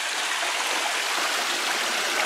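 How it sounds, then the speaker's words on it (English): Steady rushing, bubbling cold water from an underground spring near Dominica's Boiling Lake, with a constant gurgle, close by and unbroken, with no voices. "this seems like an underground source is bubbling up"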